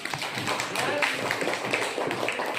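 A classroom of students applauds together in a dense, steady patter of many hands clapping that holds for a couple of seconds, with voices mixed in.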